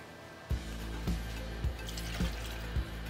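Water pours into a medium saucepan of dates with a close, steady splashing fill, broken by about five soft thumps at regular intervals. No one talks.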